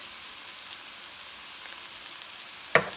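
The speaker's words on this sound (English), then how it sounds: "Now at this point of time, I will add in my garlic paste." Garlic paste frying in ghee with onion and peas in a pan makes a soft, steady sizzle, ending in a brief sharp clink near the close.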